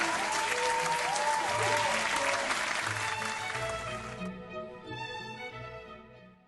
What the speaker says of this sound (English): The audience applauds as Ollie takes a bow.